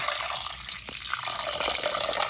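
Tap water runs steadily into a pot holding raw ground pork, a continuous close splashing and gushing with no talk.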